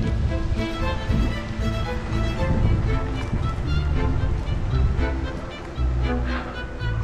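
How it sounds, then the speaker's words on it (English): Gusty north wind roaring across the microphone of a bicycle rider gliding along city streets, a loud, continuous rumbling buffet that swells and dips throughout. "Blustery day, it's windy."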